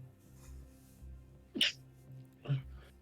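One sharp sneeze bursts out close by during a quiet tabletop role-playing game session, followed a second later by a shorter second burst, over low background murmur.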